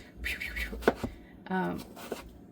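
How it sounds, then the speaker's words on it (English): A chef's knife chopping vegetables on a board for soup, a few quick sharp cuts heard between stretches of a person talking. "A chef's knife makes chopping up vegetables a breeze."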